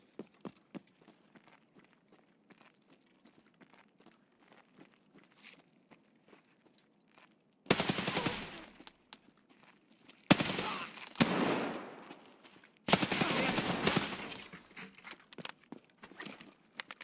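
Bursts of automatic gunfire from a PvP extraction shooter video game, three loud sustained volleys after a stretch of quiet footsteps and faint clicks, each burst lasting a couple of seconds with brief gaps between.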